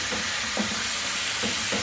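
Garlic fries loudly in a hot pan for the tempering poured over an okra dish: a steady, close, bright sizzle and hiss with a few soft stirring scrapes.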